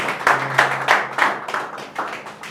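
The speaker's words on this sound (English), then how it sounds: "Can we just give a round of applause to Stanley Ebenge and" A small audience at a morning creative talk gives a round of applause, with distinct, fairly close claps landing in a loose rhythm rather than a dense roar.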